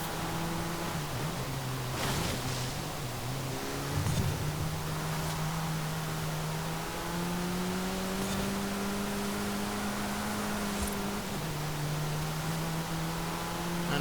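A turbocharged 1.8 litre sports car engine in Forza Horizon 5 holds a steady droning tone that rises and shifts through gears, over a constant hiss of road and wind noise.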